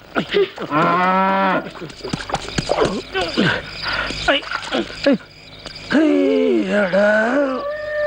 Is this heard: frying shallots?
no